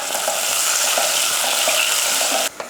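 Onion, a few garlic cloves and curry leaves sauté and stir in a hot pan, giving a loud, steady sizzle with faint scraping that cuts off abruptly near the end.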